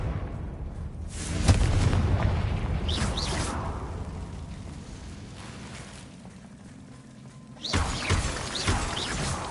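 Confringo fire spell blasts in the Hogwarts Legacy video game, two loud explosive bursts with crackling debris, separated by a quieter rumbling stretch.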